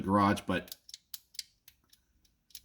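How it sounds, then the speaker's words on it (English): A brief spoken voice gives way to a run of small, sharp mechanical clicks and scrapes, close and quiet, as a pistol trigger grinds against its magazine disconnect safety. "what that sound you're hearing is that magazine disconnect"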